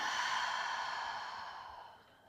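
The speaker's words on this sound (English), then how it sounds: "And exhaling it out." Slow, deep exhale through the mouth during gentle yoga breathing, a single breathy, airy outflow that fades gradually over about two seconds, close and unaccompanied.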